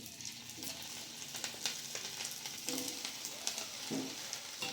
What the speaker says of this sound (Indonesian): sekarang kita goreng tempe dulu.